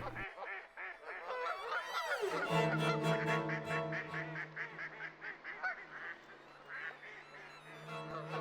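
Canada geese in Sacramento Valley wetlands, a flock honking in overlapping nasal calls, close and loud, with a dense repeated chorus over several seconds and no speech.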